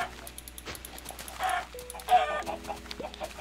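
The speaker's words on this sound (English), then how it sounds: "look at all these chickens!" Chickens clucking in Minecraft, several short squawks and clucks spread through the clip over low game background sounds.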